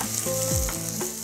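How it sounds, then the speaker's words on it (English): Finely sliced onions hitting hot olive oil in a pan, a loud close sizzle and frying hiss with a brief stir, no one speaking. "the sizzling onion into the oil"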